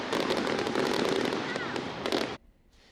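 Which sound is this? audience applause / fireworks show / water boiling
fireworks show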